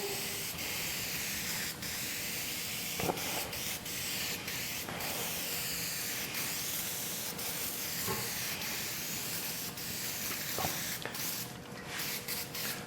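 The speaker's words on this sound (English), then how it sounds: "Just using spray 77 from 3M." 3M Super 77 spray adhesive is sprayed from an aerosol can onto 1/4-inch foam for a sun visor blank in a 1959 GMC Apache Fleetside upholstery job, a steady close hiss running throughout with a few short sputters and breaks.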